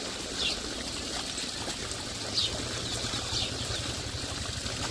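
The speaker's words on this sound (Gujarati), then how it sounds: "હવે ફટાફટ આપણે કપડા ધોઈ નાખી" Soft, continuous splashing and trickling water with occasional sloshes, like clothes being rinsed and scrubbed by hand in a tub, fairly quiet and steady.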